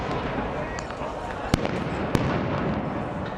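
Stun grenades going off against stones during clashes outside the Al-Aqsa Mosque compound, with two sharp loud bangs over a dense background of crowd noise.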